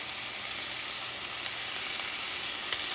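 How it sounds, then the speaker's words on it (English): Chorizo fries with garlic in a pan, giving a dense, even sizzle with a few faint pops and light stirring taps, and no voices. "I'm going to start adding the chorizo"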